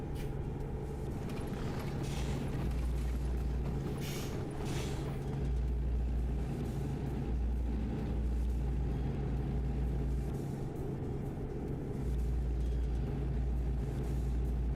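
A truck in American Truck Simulator drives along with a steady, low engine rumble and a continuous rattling drone that hold evenly throughout.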